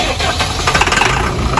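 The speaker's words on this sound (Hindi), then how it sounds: "इसको आपको इंजन साउंड सुनवाते हैं।" The diesel engine of a Bobcat machine cranks on its self-starter and catches, a loud, close, rough mechanical churn with rapid knocking pulses building over a second and a half.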